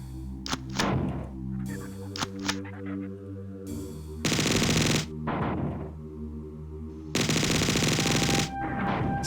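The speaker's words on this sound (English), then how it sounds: "So I hit him with a few rockets." A rocket launcher fires in the video game Marathon: sharp percussive shots and two longer, loud roaring blasts ring out over a steady droning electronic tone, with no voices.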